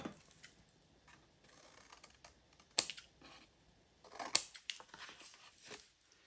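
Scissors snipping paper for a scrapbook travel booklet with a laminated cover, close and quiet, giving a few sharp isolated cuts and faint crisp rustling between them.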